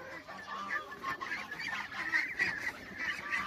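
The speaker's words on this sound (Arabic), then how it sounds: "ده اللي هو وز البطن القوام" Young geese from a first hatch honk and chatter continuously in a group, moderately loud, close by, with faint background noise.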